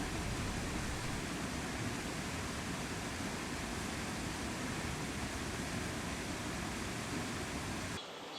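A small waterfall in a rocky valley gorge sends up a continuous, even broadband rush of falling water that stays steady until it cuts off abruptly near the end.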